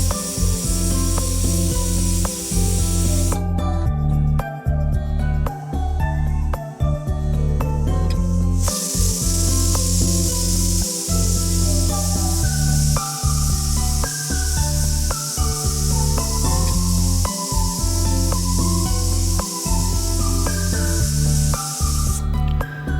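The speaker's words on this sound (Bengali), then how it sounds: "তো আমরা মোটামুটি 5-6টি শীষ দিয়েছি প্রেসার কুকারে।" Pressure cooker cooking beef, its valve letting out a loud sustained high steam whistle that runs through most of the stretch, cutting out briefly once, over a low steady rumble from the stove.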